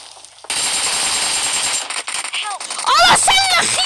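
Rapid video game gunfire rattles in loud bursts, and excited voices talk and shout over the shots.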